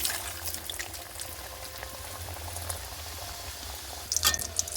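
Egg singara sliding into hot oil and frying, a steady close bubbling sizzle with a brief louder crackling burst near the end.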